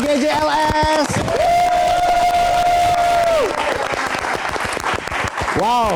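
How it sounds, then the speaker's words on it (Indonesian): Audience applause at a live show, a dense burst of clapping with crowd noise, heard alongside a loud whistle-like tone and a voice. "Kita tepuk tangan sekali lagi untuk GJLS."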